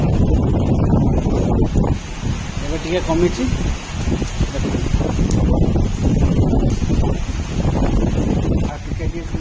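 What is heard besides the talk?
strong wind during a storm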